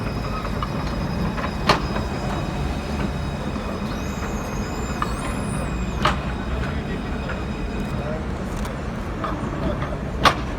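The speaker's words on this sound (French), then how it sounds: "Il y a un tram qui arrive." A Paris tram pulls in during a street protest, a continuous loud rumble of rolling wheels with a faint metallic squeal in the middle and a few sharp clanks over crowd background.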